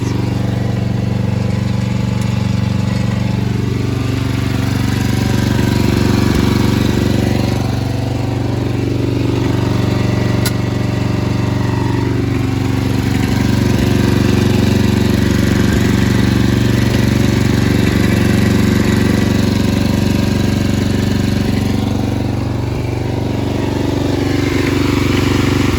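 A Snapper riding lawn mower with a worn engine that may need new piston rings runs steadily in gear, a loud continuous low drone with slight surges throughout.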